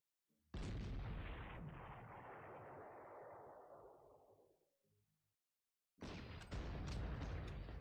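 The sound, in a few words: artillery fire in the video game Panzer Corps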